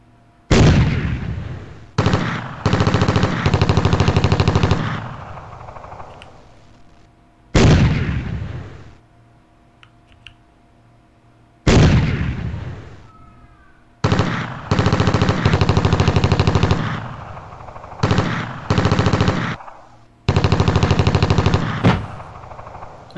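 Repeated long bursts of automatic gunfire from a vehicle in the WinSPMBT war game, loud and close, with short silent gaps between volleys and no talking.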